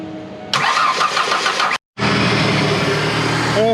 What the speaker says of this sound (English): let's turn the car on and see what happens